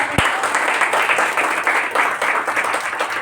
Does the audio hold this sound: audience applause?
yes